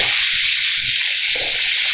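Ripe tomatoes frying in oil in a pan with onion and tamarind while cooking pumpkin kulambu, a steady loud broadband sizzle and hiss throughout with soft stirring knocks, no talking.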